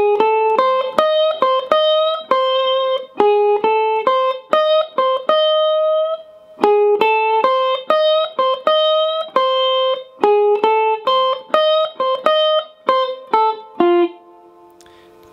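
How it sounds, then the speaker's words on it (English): The guitar solo of a song, played slowly on capoed guitar as a lesson: clean, twangy single-note licks and double stops in a steady repeating phrase, stated twice with a brief pause between, close with no talking. "We're getting to the guitar solo."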